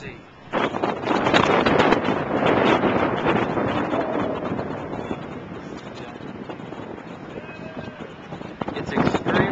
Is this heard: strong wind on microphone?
yes